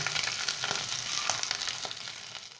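Curry leaves sizzle in hot oil in a pan while lemon rice is cooked, a close, steady crackling hiss that runs without a break and with no talk over it.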